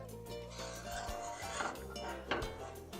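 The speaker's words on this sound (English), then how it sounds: "we're going to stir this until the chocolate is smooth and creamy" A spoon stirs a chocolate mixture in a pot over low heat, giving soft, quiet scraping and clinking against the metal, with faint continuous movement and no talking.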